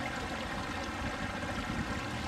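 A fast-moving stream in Ulu La'au Waimea Nature Park, Hawaii, rushes in a continuous, even wash of water, close and fairly loud with no voices over it.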